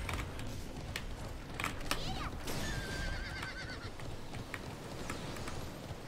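Rapid hoofbeats of a horse running in the video game Alicia Online patter over a dense, noisy background, with a whinny partway through and faint speech underneath.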